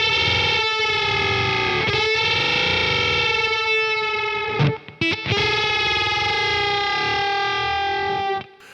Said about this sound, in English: you get all these really weird extra harmonics, which are sort of octavey. That's why they're called octave fuzz